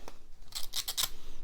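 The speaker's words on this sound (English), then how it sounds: "then I did some with these scissors" Scissors snipping through paper during a papercraft inking and edging job, a few quick crisp cuts in a row, close and clear with no talking.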